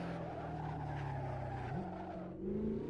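A car brakes hard into a corner on a race track, its close engine note falling steadily and then jumping up in pitch as it downshifts and picks up again.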